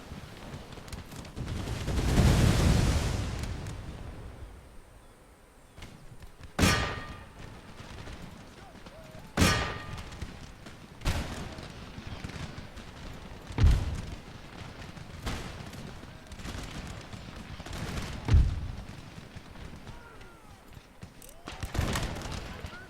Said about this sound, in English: Come on, John, use those grenades!